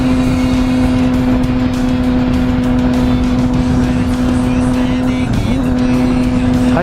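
Triumph motorcycle with a Kaufman exhaust cruising in sixth gear under 6,000 RPM, a loud steady engine drone with a constant pitch and wind buffeting, briefly wavering near the end.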